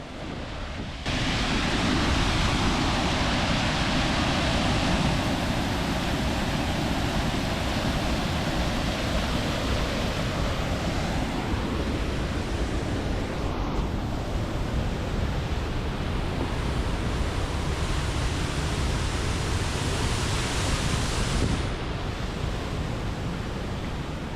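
A waterfall inside an Ohio cave roars as a loud, unbroken rush of falling water, constant and close, with no voices over it.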